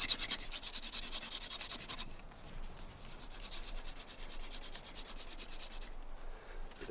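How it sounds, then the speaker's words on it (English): A wooden spindle is spun between the palms against a wooden hearth board in a hand-drill fire-starting attempt, producing soft, rhythmic rubbing and scratching strokes in quick repeated bursts, faint and close, with no speech. "make a fire using a method that's been around for as long as man has been making fire, the hand drill"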